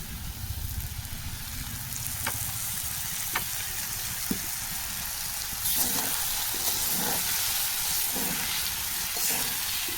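Oil sizzles steadily in a frying pan, a continuous close hiss with a few faint clicks and scrapes along the way, and no voices.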